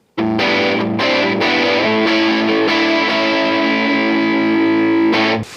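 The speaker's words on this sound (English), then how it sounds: "This is my 1979 vintage Boss DS-1." Electric guitar played through a 1979 Boss DS-1 distortion pedal, heavy sustained chords ringing loud and close with a few quick re-strikes before stopping abruptly.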